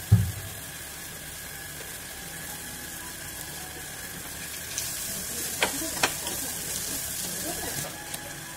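Cut capsicum with a little turmeric frying in a pan, a soft continuous sizzle with a thump at the start and a few scattered clinks of stirring later on.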